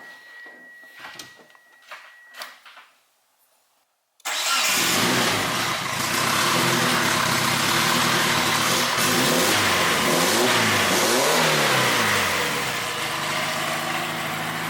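A big-turbo all-wheel-drive first-generation Eagle Talon/Mitsubishi GSX cranks and fires up after a few quiet clicks and shuffles, then runs loud and close, with rising and falling revs over a steady rough idle.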